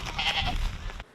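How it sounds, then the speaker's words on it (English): A farm goat bleats once, a loud, close, wavering cry that fills most of a second and then tapers off. "What's a good farm without a goat or two around?"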